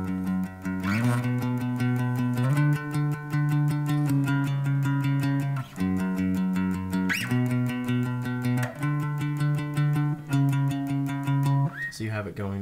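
Electric bass plays the verse of a song in steady straight eighth notes, moving through chord changes with clear sustained tones, loud and alone.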